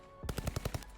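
Weapon fire in Call of Duty Vanguard Zombies, heard as a quick burst of about six evenly spaced shots, loud and close, after a brief quiet lead-in.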